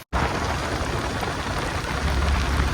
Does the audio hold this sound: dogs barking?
no